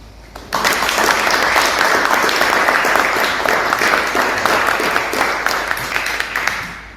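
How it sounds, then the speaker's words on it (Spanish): An audience at a talk on Amazonian literature gives Jorge Nájar a loud, sustained round of applause, dense clapping that begins abruptly and fades slightly toward the end. "un aplauso grande para Jorge"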